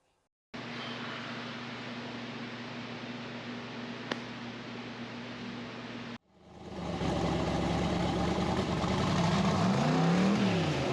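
A tractor engine idles steadily for several seconds, cuts off briefly, then restarts and runs louder with rising and falling revs.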